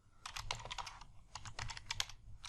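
Typing on a computer keyboard, quick bursts of light key clicks in two short runs with a brief pause between, close but quiet.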